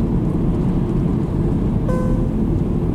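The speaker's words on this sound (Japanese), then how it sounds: "なんか急に雨が降り出したんですけど、さっきまで全然降ってなかったのに。" Rain suddenly starting while driving a car in Sendai, heard from inside as a dense, steady roar of drops on the vehicle, with no talking.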